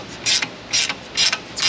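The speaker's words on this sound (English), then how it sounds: "I'll use my little ratcheting crow's foot device here just to get some tightness going" A ratcheting crow's foot wrench clicks in four short bursts while tightening nuts on Chevrolet Silverado 5.3 truck springs, close and crisp with brief pauses between strokes.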